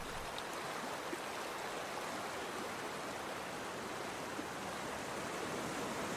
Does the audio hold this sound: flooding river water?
yes